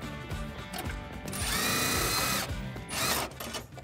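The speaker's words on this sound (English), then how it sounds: "We're gonna take our 3/8 deep socket and put on our hardware." 3/8 deep socket on a power driver tightening nuts on ZRoadz LED cube light brackets on a 2018-2019 Ford F150 lower grille, two close whirring bursts with ratcheting clicks and a rising whine.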